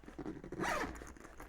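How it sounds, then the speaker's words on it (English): A zipper pull is slid onto the zipper tape of a sewn Scottie Convertible bag, a short, soft, close rasp of zipper teeth lasting under a second in quiet surroundings. "So we got the zipper pull on."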